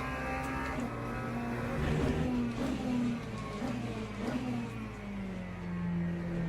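LMP3 race cars in a racing video game, several engines revving and droning together as they run close ahead, pitch rising and falling with gear changes at steady moderate loudness.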